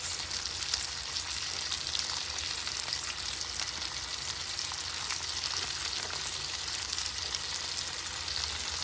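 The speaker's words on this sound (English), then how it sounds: "This is how we grill our meat." Steak sizzles on a grill with a steady, loud, dense crackle and hiss that continues without a break, with no talking over it.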